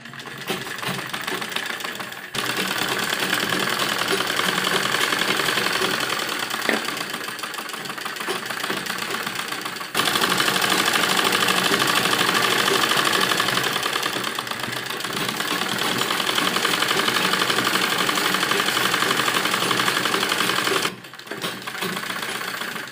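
Sewing machine stitching fabric for a baby dress, a loud continuous whirring run sustained over long stretches with brief pauses between them, close and dominant.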